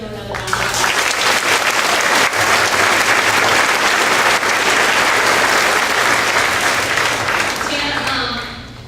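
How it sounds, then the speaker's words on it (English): A Veterans Day event audience applauding, a thick, sustained roar of clapping that swells in quickly, holds loud and steady for several seconds, then tapers off near the end. "Give him another round of applause."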